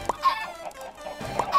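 Chickens clucking in the Minecraft video game: short, repeated clucks near the listener over a faint background, coming in a couple of small clusters.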